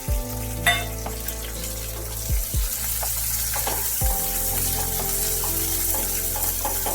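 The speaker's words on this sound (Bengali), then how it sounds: "ওই তেলের মধ্যেই কেটে রাখা পেঁয়াজ দিয়ে দিতে হবে" Sliced onions frying in hot oil in a pan, a steady sizzle with a few clunks and knocks of utensils, close and without talk.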